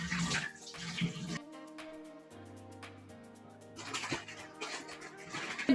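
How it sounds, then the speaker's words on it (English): Splashing water from washing the face, with gurgling bursts of a tap and hands scooping water in uneven spurts, close and moderately loud, pausing between splashes while a soft musical tone hums underneath. "Now I'm going to wash my face."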